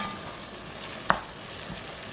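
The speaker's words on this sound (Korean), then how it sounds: "냄비 바닥에 눌러붙지 않게 섞어주시고요" Onions being stirred in a pot over medium-low heat, a steady soft frying hiss with one sharp scrape or clink of the spoon against the pot partway through, no talking.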